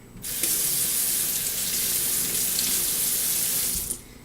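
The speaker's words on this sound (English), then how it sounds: "Let me just rinse out my spoon." A spoon rinsed under a running kitchen tap: a steady, close hiss of flowing water starts abruptly, holds for nearly four seconds, then cuts off, with no talking.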